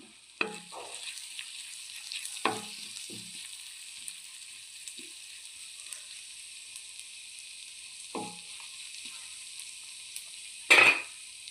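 Tomatoes, coriander leaves and pepper sauté in a pan with a steady soft sizzle, broken by several scraping stirs of a utensil against the pan and one louder clatter near the end.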